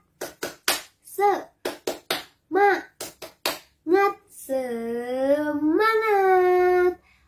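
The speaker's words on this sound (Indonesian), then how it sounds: "kita tepuk semangat dulu yuk" A class of primary school children performs a rhythmic spirit clap, sharp hand claps in short grouped patterns with chanted syllables between them, ending in a long drawn-out shout, all close and clear.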